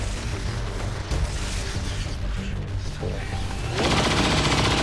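Dense, continuous bursts of automatic gunfire and booms in XCOM 2 battle, loud and sustained, growing heavier toward the end.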